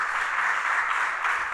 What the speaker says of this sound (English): applause for Mauro, please